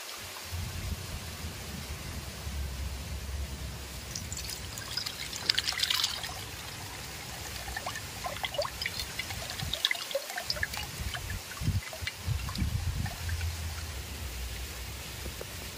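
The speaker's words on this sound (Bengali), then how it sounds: "এইটার মধ্যে আমি আর এক বাটি জল মিশিয়ে দিচ্ছি, দিয়ে ছেঁকে নিচ্ছি।" Water poured into lychee pulp and strained through a sieve while making lychee pudding, a steady trickling wash of liquid with a few louder splashy bursts, close and continuous throughout without talk.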